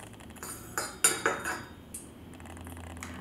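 Small juniper berries and spice pods dropping through a funnel into a gin bottle, giving a few light clinks and rattles close by, then quiet.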